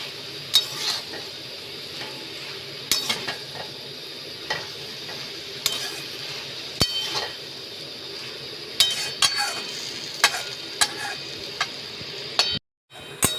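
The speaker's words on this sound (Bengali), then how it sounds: "এবার আমি এগুলো ভালো করে সর্ষের সাথে মিশিয়ে দেবো শাকটাকে" Telakuchi greens being stirred with mustard in a pan, giving repeated scraping clinks of a spatula against the pan at an irregular rhythm over a soft, steady sizzle, close and moderately loud, with no talking.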